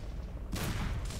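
Revolver gunfire in the shooter game Gears of War, two loud, close, booming blasts about half a second apart, each a harsh burst with no talk.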